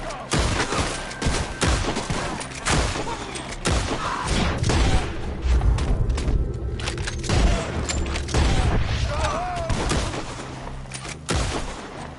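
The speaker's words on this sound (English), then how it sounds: "Shoot the ones up there first!" A Red Dead Redemption 2 shootout against gunmen up in the trees: loud, irregular rifle and pistol shots crack in quick bursts, some near and booming, others echoing, with scattered pauses between volleys.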